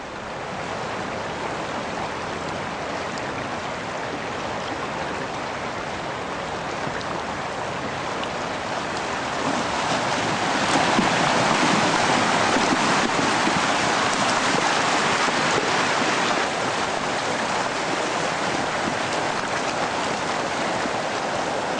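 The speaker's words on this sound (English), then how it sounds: "It's the full force of Yosemite Creek, which can be up to, say, 100 cubic feet per second." Yosemite Creek rushes at full force, making a dense, continuous roar of water that swells louder midway and stays close and unbroken throughout.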